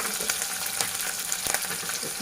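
Onion fries in a pan over a medium flame, giving a steady, close sizzle with soft crackles and small pops throughout and no talking.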